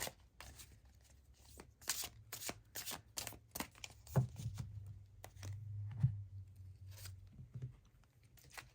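A tarot deck of illustrated cards is shuffled in a quiet room, giving a series of quick, soft papery riffles and taps spread across several seconds.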